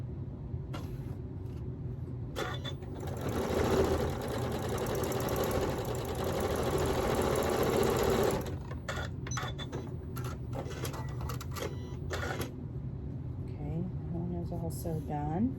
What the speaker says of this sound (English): Now I'm going to sew these two top pieces together.